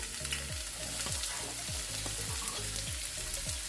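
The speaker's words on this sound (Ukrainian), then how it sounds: "На сковорідку наливаємо трішки рослинної олійки та обсмажуємо цибульку" Onions sizzling and crackling steadily in hot vegetable oil in a pan, with the faint rhythmic scrape of a spatula stirring underneath.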